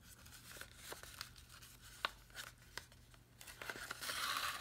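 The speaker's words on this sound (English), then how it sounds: "Oh, these are my adhesive scissors." Adhesive scissors snip a length of organdy striped ribbon, a few faint, sharp clicks and cuts scattered over soft handling rustle, ending in a louder crinkling burst.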